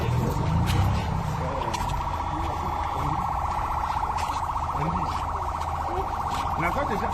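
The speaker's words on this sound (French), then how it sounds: "Nous prenons une ambulance médicalisée." Ambulance siren wailing steadily for several seconds amid street and traffic noise, fairly loud with faint voices in the background.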